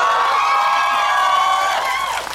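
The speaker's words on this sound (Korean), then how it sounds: "박수 한번 주세요." A crowd at a film talk event for the movie Exit at COEX Megabox cheers, a sustained chorus of high shrill screams and whoops holding steady and loud, then dipping briefly near the end.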